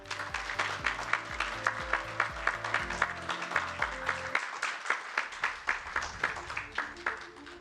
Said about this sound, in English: Applause should go on.